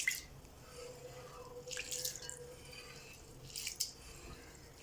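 Soaked rice being washed in water by hand for appam batter, with quiet sloshing and dripping, plus a couple of louder splashy swishes, close by in a calm kitchen.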